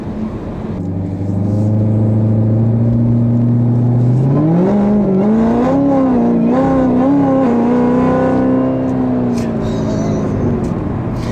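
A new, very powerful car engine revs hard under full acceleration, its loud droning tone climbing in pitch and holding high, close and continuous for several seconds with no talking.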